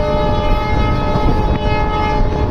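Leelan Superfast Express train running from Jaipur to Jaisalmer in Rajasthan makes a loud, continuous rumble. A sustained horn tone sounds over it and faint wheel clatter runs beneath.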